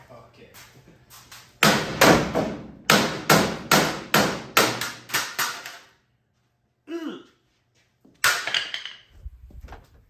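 Heavy hammer pounding on the metal body of a Jeep YJ, a loud run of rapid, ringing blows in two bursts with a pause between, while people talk briefly in the gaps.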